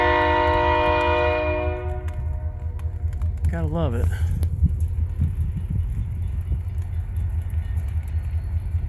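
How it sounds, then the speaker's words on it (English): A big train backing up close by, its horn blaring loudly for about three seconds at the start, then a heavy steady rumble and clanking of rail cars continuing throughout, with a voice speaking briefly over it. "Big old train just backing her up. Kind of noisy."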